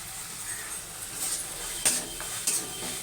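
A ground coriander and cumin paste with turmeric and salt frying in a pan, a steady soft sizzle broken by several sharp scrapes and clinks of a spatula against the metal, close and without talk.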